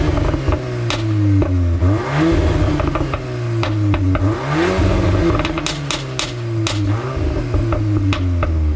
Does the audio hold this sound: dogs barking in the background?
no